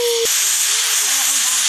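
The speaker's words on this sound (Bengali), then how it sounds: "আর একটা সিটি উঠলে হয়ে যাবে।" A pressure cooker boiling vegetables for pav bhaji lets out a loud, steady steam whistle hiss that runs on continuously after a brief tonal start, close and dominant.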